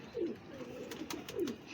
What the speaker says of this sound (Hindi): ये कलदुमा कबूतर है, जूनागढ़ वाले कबूतरों में से है।